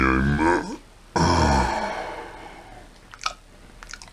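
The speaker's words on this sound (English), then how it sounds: "I'm chewing on a donut." Someone chews a donut close to the mic, with soft wet crunching and smacking following a voiced sigh or grunt, ending in a few sharper bites.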